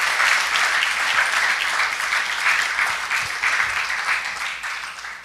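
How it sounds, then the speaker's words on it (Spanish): A church congregation giving loud, dense applause, sustained throughout with gentle rises and a slight fade toward the end. "Dele el aplauso fuerte al Rey."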